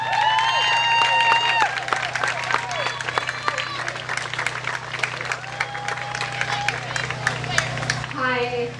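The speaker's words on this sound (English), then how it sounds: "Please join me in giving a big round of applause for Maren Stewart." An event audience applauds a speaker with sustained, dense clapping and some cheering, while people chatter in the background and a tonal whistle-like sound rises over the crowd.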